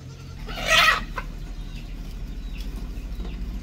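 A burst of native and crossbreed chicken clucking rises briefly near the start, then fades into a steady low rumble of background noise.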